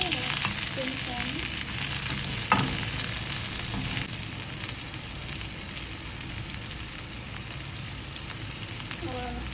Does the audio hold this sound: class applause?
no